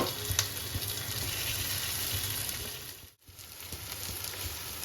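Mashed potato tipped into shallow-fried onions sizzles steadily in a hot pan, a dense close hiss with one brief dip near the end before the frying resumes.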